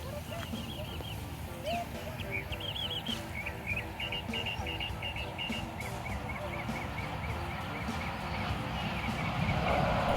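Birds chirp and trill repeatedly over a steady outdoor background hum in a park with no cars, with faint murmuring voices, activity and a train in the distance.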